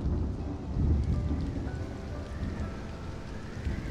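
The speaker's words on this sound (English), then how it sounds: "Thunderstorm." Rain falls steadily during a thunderstorm in Stranded: Alien Dawn, a dense wash of rainfall with a low rumble of thunder swelling early on. The storm sounds close and continuous.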